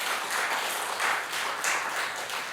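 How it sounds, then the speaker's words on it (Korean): A church congregation at a Sunday service claps together, a soft, dense patter of applause that stays fairly even and moderately distant for a couple of seconds. "여러분 박수 한번 쳐드리세요."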